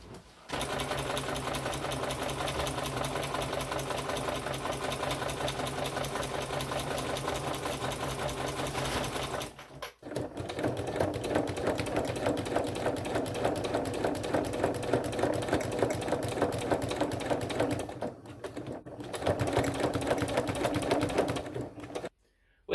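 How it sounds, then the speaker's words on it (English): A sewing machine stitches a Civil War ground cloth, a fast, continuous mechanical chatter with a steady motor hum, running close and loud with two brief stops partway through. "we just got some stitching to do"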